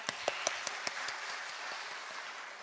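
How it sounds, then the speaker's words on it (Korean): A church congregation applauds after a worship song, a few distinct claps rising into soft, fairly distant steady clapping that fills the hall. "우리 다시 한번 큰 박수 할까요?"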